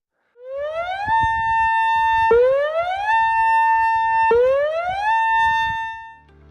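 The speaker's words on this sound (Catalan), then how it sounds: "Sonaran les sirenes" Loud electronic civil-protection dam-failure warning sirens wail in repeated rising sweeps, three cycles in a row, close and dominant with no other sounds.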